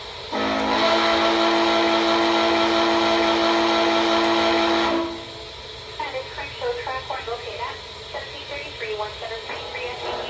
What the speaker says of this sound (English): here's the whistle. Now, the short whistle does not produce steam. The long whistle does.